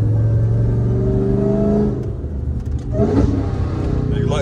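Dodge Charger Hellcat with a 900-horsepower engine and loud exhaust, a deep sustained rev that drops as it downshifts and then surges again, heard close from inside the car, with brief talking.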